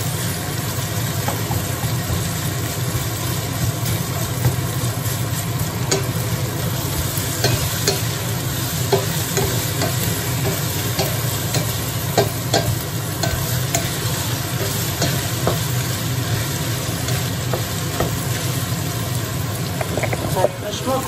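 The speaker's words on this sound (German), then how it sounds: "Das ist jetzt ein bisschen mit anbraten." Tomato paste sizzles and fries steadily in a pan, with scraping and stirring noises throughout and a low background hum.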